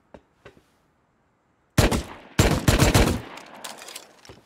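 Gunfire in the video game Rust: a few faint isolated pops, then loud rapid bursts of automatic shots in quick succession, trailing off into scattered quieter shots.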